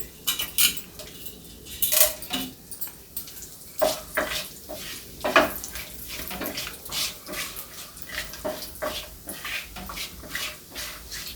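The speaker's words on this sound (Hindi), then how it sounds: "तेल गरम हो गया, इसमें डाल रहे हैं तेजपत्ता, जीरा, दालचीनी, सारे मसाले को डाल देंगे, खड़े मसाले।" Whole spices, bay leaf, cumin and cinnamon, crackle in hot oil in a pan while cooking dum aloo, with repeated sharp clinks and scrapes of a spoon against metal between bursts of spluttering.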